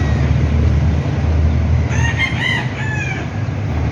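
A rooster crows once, clear and fairly close, over a constant loud background rumble.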